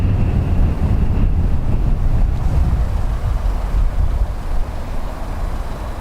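Strong gusty wind buffets the microphone at Dublin Airport during crosswind arrivals, a loud, continuous low roar with surging gusts and no voices.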